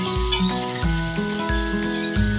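Tomatoes added to a pan for a tomato soup, sizzling steadily beneath a few clinks of a utensil against the pan, with a faint tonal hum running under it.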